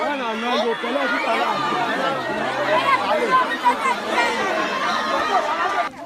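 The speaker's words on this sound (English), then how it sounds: "Yet, the crowd, while going down the hill, was still massive." Large festival crowd chattering as it walks down a hill, a dense, close babble of many overlapping voices that stays steady throughout before cutting off abruptly.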